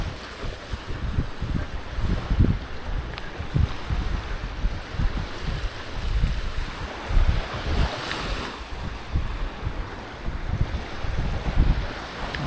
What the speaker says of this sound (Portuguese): Esse barulhinho do mar é tudo de bom